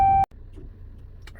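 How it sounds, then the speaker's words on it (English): A 2013 Ram truck with the 3.6 engine sounds its seatbelt warning, a loud, clear electronic chime lasting about a quarter second that cuts off abruptly, followed by a quiet idling rumble inside the cab. "it's running fine other than this stupid chime because I haven't got the seatbelt on"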